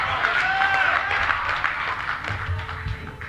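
An audience at a speech claps in a moderate, steady wash of applause with crowd murmur and a few faint voices, easing off toward the end.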